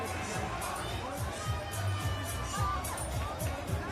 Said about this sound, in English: Crowd enjoying this one.